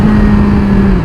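Motorcycle engine revving hard near nine thousand RPM while riding wheelies, a loud steady high-pitched drone held throughout, close and alone.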